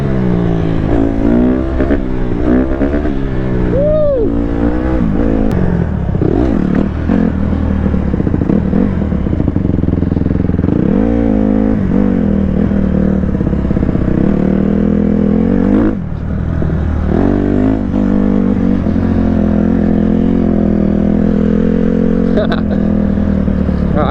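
A dirt bike engine revs and surges steadily up close while it rides over bumpy ground in a field, with a voice talking over the continuous motor noise throughout.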